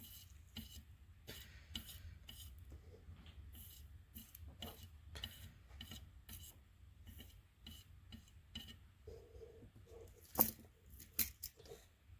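A Super Game Boy circuit board being scrubbed clean of resin flux makes quiet, repeated rubbing and brushing strokes in an irregular rhythm, with a few sharper scrapes near the end.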